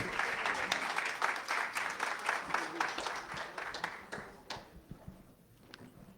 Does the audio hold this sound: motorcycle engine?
no